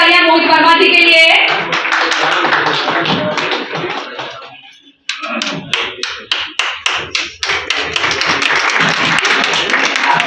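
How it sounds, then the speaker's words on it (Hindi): Loud, sustained crowd applause for a journalist receiving a certificate at an awards felicitation ceremony, continuous clapping filling the hall, briefly dipping near the middle before swelling again. "एक बार जोरदार तालियां मोहित वर्मा जी के लिए।"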